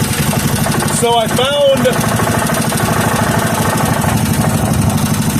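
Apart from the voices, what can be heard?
3hp Briggs and Stratton small engine running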